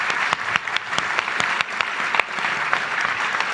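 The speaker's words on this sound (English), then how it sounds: "give a round of applause to our panelists again." An audience at a career panel event applauds the panelists, a steady, dense clapping that fills the room without a break.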